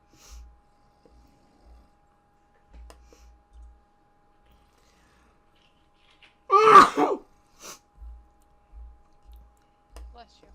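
A single loud sneeze bursts out about two-thirds of the way through an otherwise quiet stretch, with soft scattered clicks and light tapping before and after it.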